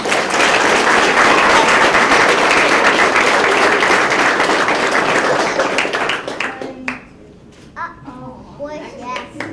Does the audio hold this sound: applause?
yes